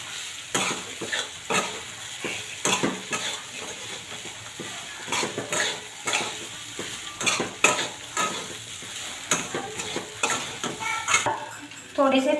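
Dry poha flakes are stirred and fried in a pan at close range, with a soft continuous sizzle under repeated scraping and clinking strokes of a spoon against the pan.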